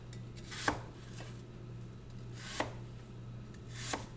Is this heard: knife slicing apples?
yes